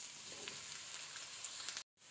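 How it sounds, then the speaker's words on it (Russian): Steady sizzling of mushrooms frying in hot oil in a pan, a continuous crackling hiss that cuts out abruptly near the end. "И отправляем сюда обжариваться наши грибы."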